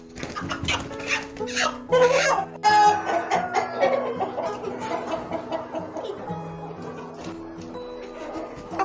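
Crowing of a free-range village rooster of a fast-growing layer breed, several rising calls that stand out over clucking hens, other barnyard sounds and a dog, close and fairly loud, with some speech nearby.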